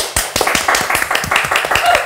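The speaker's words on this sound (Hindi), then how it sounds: "ladies and gentlemen। जोरदार तालियां।" An audience claps on a talk show for actor Vishal Gandhi, giving a loud, close run of distinct, fairly rhythmic hand claps with voices mixed in.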